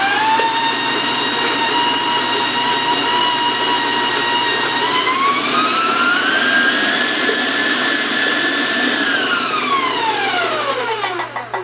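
Steady loud mechanical whine of an electric mixer beating brownie batter continuously, pitch rising then sweeping down near the end as it slows.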